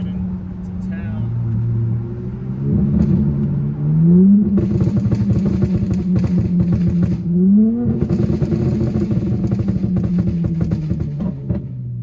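A car engine revving hard through repeated downshifts, loud rising and falling engine pitch with clattering blips, close and recorded from inside the car.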